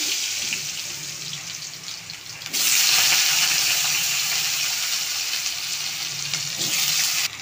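Potatoes go into a wok over a cumin tempering and fry with a broad, hissing sizzle. It starts moderate, jumps louder partway through, then holds steady and close with no talk.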